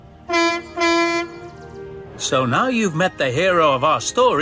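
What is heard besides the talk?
horn of a dark blue diesel electric shunting engine, Trainz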